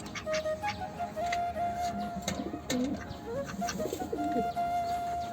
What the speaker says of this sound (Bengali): তারপরে নিচে কিছু কবুতর আছে